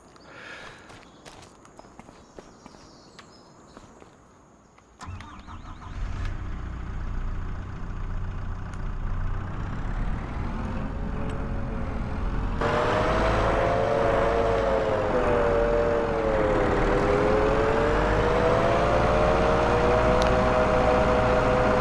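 A skid steer engine in Farming Simulator 25 starts up after a few soft footsteps, then settles into a steady droning hum that swells louder and wavers in pitch as the machine works, with no talk.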